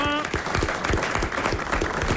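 A studio audience at a French radio game show applauds a contestant, a loud, dense burst of clapping that runs steadily from start to finish, with a short tone at the very beginning.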